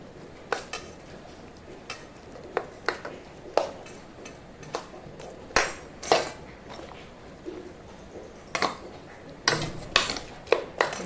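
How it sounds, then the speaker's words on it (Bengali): Chana dal pakora batter is stirred together with chopped onion, making irregular sharp clinks and taps of a spoon against the bowl over a soft, wet mixing sound, fairly close and without talking. "ভালো করে মিক্স করে নেব। আর এই পেঁয়াজটা দিয়ে দিচ্ছি আমি।"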